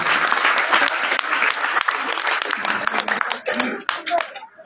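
Applause from an audience at a school prize ceremony, a dense burst of many hands clapping that thins out and fades toward the end, with voices mixed in.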